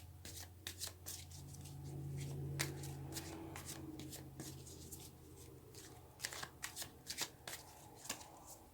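Tarot cards are shuffled close up, a soft, fairly faint riffling and flicking with scattered sharp snaps through the whole stretch, growing busier toward the end.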